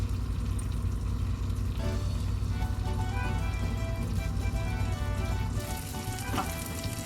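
French toast fries on a griddle, a steady dense sizzle running throughout, close and fairly loud, with a few light scrapes and clicks near the end.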